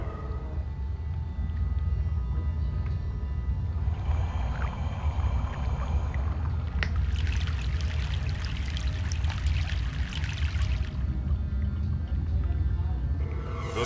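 A boat crosses a river in the video game Broken Sword: The Sleeping Dragon, with steady water churning and sloshing throughout and a brighter splashing burst midway, all close and continuous.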